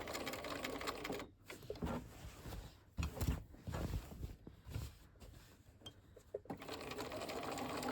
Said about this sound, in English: I'm going to carefully stitch across the teeth.